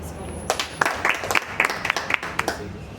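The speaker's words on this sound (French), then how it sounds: "nous accordons la parole à Madame Eloge sur vos applaudissements." Scattered, uneven hand claps from a small audience at an art exhibition opening ring out as distinct sharp claps, with faint background murmur between them.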